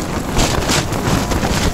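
Strong wind buffets a tent on the high Dyatlov mountain pass, a steady roaring rush with gusty surges and microphone wind noise, loud and continuous without any voices.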